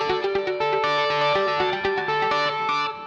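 An electric guitar plays through a legacy Line 6 M series echo effect on a Line 6 HX Effects unit, with distorted chords and repeated plucked notes trailed by echoes, loud and close with no voices.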